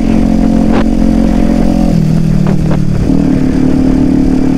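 Kawasaki Ninja 400 motorcycle ridden fast, its engine droning loud and close with pitch shifts as it changes gears, a steady buzzing roar from start to finish.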